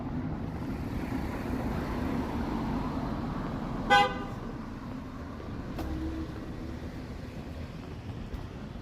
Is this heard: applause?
no